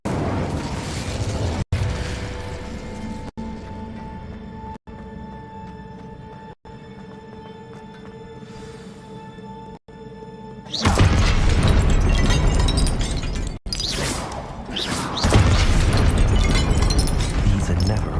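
Spell blasts in the game Hogwarts Legacy, including the Incendio fire spell: a long rumbling roar of fiery explosions rising loudly midway and continuing with crashes and booms, with voices and cast incantations heard throughout.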